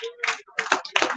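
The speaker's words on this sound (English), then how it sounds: "Can you have a round of applause for her?" A seminar and quiz audience gives a short round of clapping in a few uneven bursts separated by brief pauses, fairly close and moderately loud, with a bit of voice mixed in.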